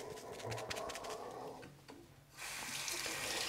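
A bathroom tap runs into a sink while someone wets their face during a skincare routine: a steady near splash of water, a brief pause as the flow changes, then a stronger hissing stream.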